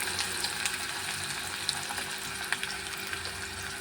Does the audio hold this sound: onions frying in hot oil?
yes